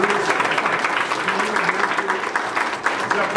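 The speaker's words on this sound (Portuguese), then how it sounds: "Uma grande salva de palmas" Audience at a public hearing giving a big round of applause, steady crowd clapping throughout with some voices underneath.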